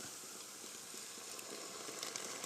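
Liquid poured into a pot of cooking crabs sets off a continuous close sizzle and bubbling hiss, growing slightly louder with a few crackles toward the end.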